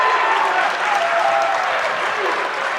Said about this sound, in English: Paulsboro crowd hasn't had a lot to cheer about, so that's the first time.